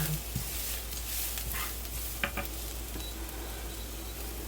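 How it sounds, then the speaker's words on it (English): Garlic and peppers frying in a pan, a steady soft sizzle running throughout with a few faint clinks and stirring scrapes, close by and fairly quiet. "then I will go in with the peppers and we'll fry for another couple of minutes"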